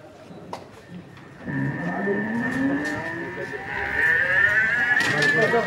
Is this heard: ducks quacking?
no